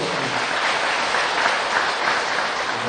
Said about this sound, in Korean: 끝까지 잘 가야 됩니다. 큰 박수로.